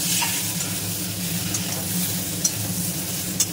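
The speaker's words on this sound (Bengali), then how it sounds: "সবজি ভাজা হয়ে গেছে, আমি বাদ বাকি সবজিগুলি দিয়ে দিচ্ছি। বেগুনও দিয়ে দিলাম।" Vegetables and eggplant fry in a pan for a pumpkin-greens dish, giving a steady close sizzle with faint stirring clicks and two brief sharper ticks near the end, with nobody talking.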